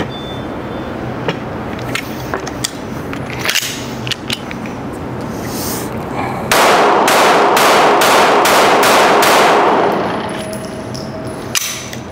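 Glock 17C and Glock 17 pistols fire at an outdoor range: sharp shots spaced out early, then a fast run of about seven close, loud reports, with a few more single shots after.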